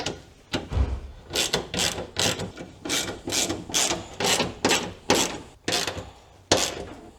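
Ratchet tightening the nuts on a shifter adapter plate for a 10th Gen Civic shifter in a DC2 Integra Type R, a close series of repeated clicking ratchet strokes in a steady rhythm.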